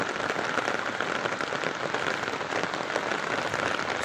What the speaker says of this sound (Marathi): सोलापुरात पावसाने थैमान घातलेलं आहे आणि पाऊस बंद होण्याचं नावसुद्धा घेत नाही